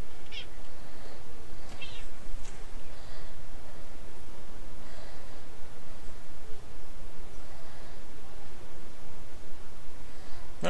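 Pet cat giving a few short, faint meows scattered over a steady background hiss, spaced irregularly and fairly distant rather than up close.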